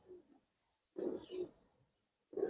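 Giribaz coloring and silver pigeons coo in a loft, with a few short, soft calls and quiet gaps between them.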